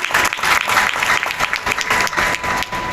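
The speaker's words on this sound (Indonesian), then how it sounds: "Sekali lagi kita beri aplaus untuk yang ada di sini." A seated audience at a Ramadan talk show event in Jakarta claps together in a dense, steady burst of applause that fills the room for the whole stretch, loud and sustained without a clear fade.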